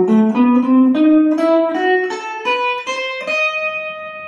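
A guitar plays a harmonic minor scale ascending from its lowest note, about nine clear plucked notes stepping upward one after another in an even rhythm, close and unaccompanied.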